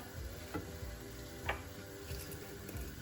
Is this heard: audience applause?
no